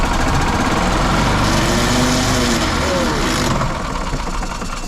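A gas-powered 2000 Yamaha G16 golf cart engine, long unused, runs steadily and loudly throughout at part throttle, with a rough, continuous mechanical drone and shifting pitch.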